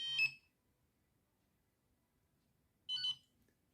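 An XP Mi-4 metal detecting pinpointer set to program 3 gives two short, bright electronic beep bursts about three seconds apart, quiet silence between them.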